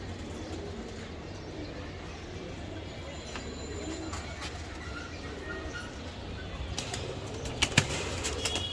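Racing pigeons in a loft give soft, scattered coos and a few brief wing flaps over steady low background noise, with a louder flurry of flapping near the end.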